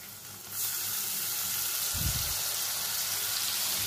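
Water from rinsing a bowl pours into a hot pan of coconut, green chilli and pointed gourd, and a broad, steady sizzle rises up and keeps going. A short low bump comes partway through.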